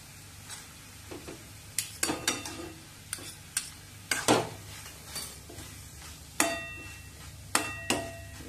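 Ghee and garam masala stirred into a thick boiled ash gourd curry, Bengali village style: sporadic spoon clinks and scrapes against the pot, several sharper knocks, over a faint steady background hum.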